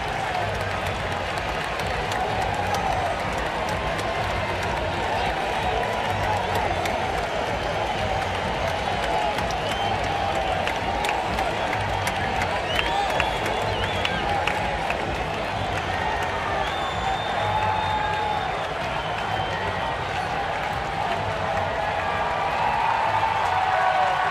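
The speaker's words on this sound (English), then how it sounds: "Crowd's going to let David hear it as he heads off here" A baseball stadium crowd reacts as an ejected player heads off the field, a steady, dense roar of voices with scattered claps and whoops sustained throughout, with an announcer talking over it.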